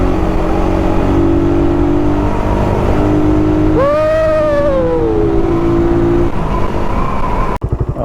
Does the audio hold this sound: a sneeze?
no